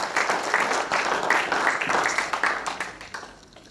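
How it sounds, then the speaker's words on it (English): A conference audience applauds a panel after an Africa PPP 2016 debate, giving a dense, steady round of clapping that fades away toward the end. "So can we have a round of applause for this amazing panel?"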